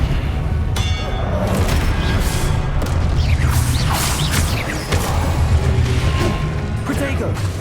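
Disarming spells cast in a Hogwarts Legacy duel, with clanging, metallic magical impacts and whooshes over a steady rumble of combat, mixed with a voice calling out.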